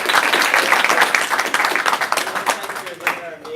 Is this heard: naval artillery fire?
no